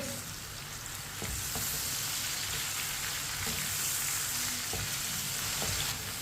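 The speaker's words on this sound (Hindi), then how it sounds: "टमाटर और सब्ज मिर्च को मैंने मिक्स कर लिया। अब इसे 3 मिनट के लिए पकने देते हैं।" Chopped tomatoes and green chilies frying in a pan with ginger and garlic for a chana dal, a steady close sizzle with occasional spoon taps against the pan.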